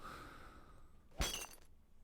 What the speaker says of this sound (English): In case of fire, break glass.